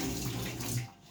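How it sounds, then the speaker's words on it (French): Water is poured into a pot of cassava cooking for fufu, a steady splashing stream close by that tapers off near the end before a brief new sound. "On va rajouter encore un peu d'eau."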